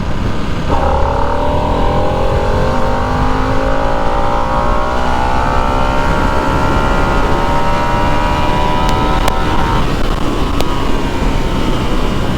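A 2025 Harley-Davidson Nightster motorcycle accelerating hard through the gears up toward high speed, its engine note climbing steadily in pitch over loud continuous wind and road rush, with a brief dip at a gear change near the end.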